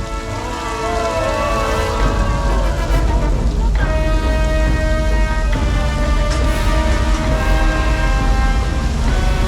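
Artificial rain pouring down on a Hollywood studio backlot tour set staged as a flash flood, a loud steady wash of water, with tonal rumbling and whining from the tour tram running under it throughout.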